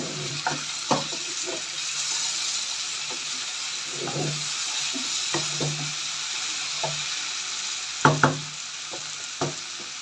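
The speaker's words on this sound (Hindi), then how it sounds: "अब सब्जी अच्छी तरह भून गई है, सब्जी ने घी छोड़ दिया, काफ़ी आवाज़ें आ रही हैं।" Mixed vegetables fry in ghee in a pan with a steady, close sizzle, broken by occasional sharp clinks and scrapes of stirring.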